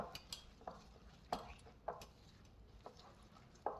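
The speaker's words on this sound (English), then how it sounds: "And then I mix it all up." Keto churro waffle batter with cinnamon and vanilla being mixed by hand, with faint, irregular clinks and scrapes of a utensil against a bowl in a quiet kitchen.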